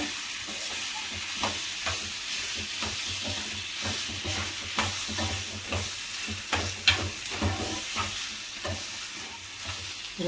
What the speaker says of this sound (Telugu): ఉల్లగడ్డ వేసి బాగా ఫ్రై చేయాలి.